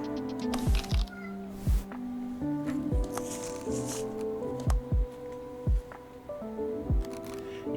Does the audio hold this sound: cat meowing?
yes